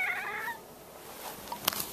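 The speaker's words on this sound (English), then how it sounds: "I have to record a cat." A single cat meow rises at the start, followed by quiet handling noise and a soft click.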